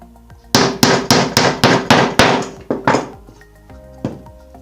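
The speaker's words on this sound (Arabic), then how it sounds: "بعدين تدقدق تاني" A hammer drives nails into a small handmade wooden cube, about ten solid thunking strikes in a steady rhythm, loud and close, then a pause and one last lighter tap.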